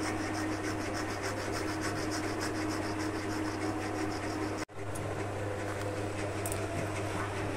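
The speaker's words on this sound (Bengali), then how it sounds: "তো গঙ্গার জল দিয়ে আমি এখানে চন্দনটা ভালো করে ঘষে নেব এইভাবে" Sandalwood is rubbed into paste with Ganges water, producing a steady, quiet grinding and scraping with a brief pause midway, close by against a low hum.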